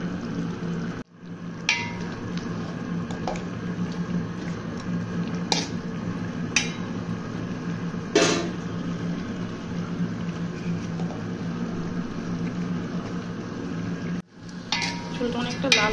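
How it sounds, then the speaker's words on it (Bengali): Chicken curry with potatoes being stirred and fried in a pan, a steady low sizzle running throughout with a few scraping clatters of the spoon against the pan and brief quiet gaps. "এবার আলু সহ কিছুক্ষণ কষিয়ে নিব।"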